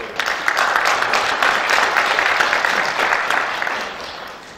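Sustained applause from a large crowd fills a church thanksgiving service for a newly installed church leader: dense, loud clapping that holds steady and then gradually tapers off, with no voices above it.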